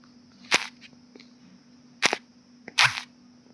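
Three sharp, punchy shotgun blasts from the video game Polygun Arena, spaced about a second and a half apart over a faint steady background hum.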